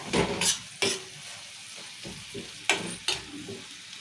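Cabbage curry with chana dal sizzles steadily in a pan while a spoon stirs it, scraping and clinking in a few sharp bursts over the constant frying hiss, close and fairly loud, with no talking.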